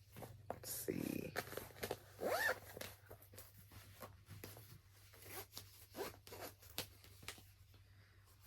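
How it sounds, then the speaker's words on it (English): Zipper pulled closed on a bag holding cross-stitch fabric, a quiet scratchy zip run near the mic, with soft handling and rustle around it. "Zip my fabric up in it."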